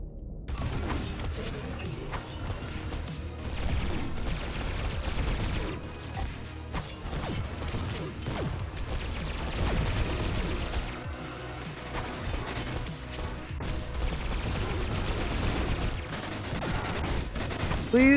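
Smart pistol gunfire in the shooter game Get To The Orange Door, a dense continuous mechanical clatter of rapid shots and impacts running loud and unbroken throughout.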